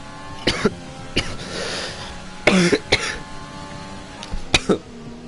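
Several short, rough coughs spaced out over a few seconds, close by, against a steady low background hum.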